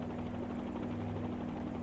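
A helicopter hovers in a flight simulator game, a steady whirring rotor drone with a constant low hum, even and unbroken throughout.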